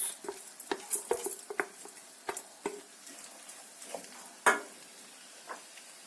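Rice sizzling softly in melted butter in a pot, with a spoon scraping and clinking against the pan in scattered, irregular taps over a faint, steady fry.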